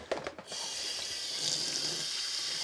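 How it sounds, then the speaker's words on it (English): Tap water runs steadily into a sink as superwash hand-spun dyed yarn is rinsed and squeezed beneath it, opening with a few splashes and then settling into a continuous close hiss with no talk. "this is superwash, so I can run this under the water and squeeze it like this"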